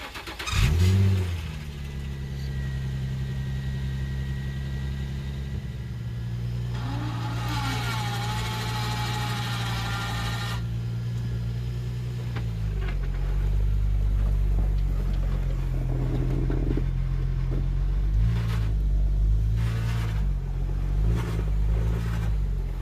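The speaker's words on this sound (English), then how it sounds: "I'm gonna pull the G snowplow into the garage here. Watch it not even start." A G35 snowplow truck's engine cranks, catches and settles into a rough idle, then revs up and down several times, loud and close in an otherwise quiet outdoor setting.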